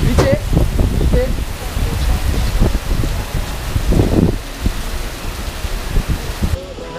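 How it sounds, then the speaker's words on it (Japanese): Outdoor rain in Asia makes a dense, steady hiss with scattered patters and wind rumble, loud and close throughout. "雨見て見て。"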